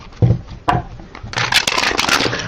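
Tarot cards being shuffled by hand, a papery riffling and rubbing that comes in a few soft bursts, with denser, brisker card flicking in the second half, heard up close with no talking.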